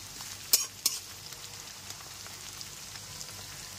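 Onions frying slowly in a pan over a medium gas flame for chicken kosha, a soft steady sizzle with two sharp clinks of a utensil near the start.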